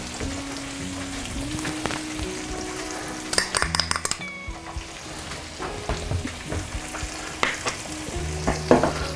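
Fish frying in a pan alongside a spaghetti dish, with steady sizzling broken by clattering utensil and pan knocks, close and moderately loud, no speech.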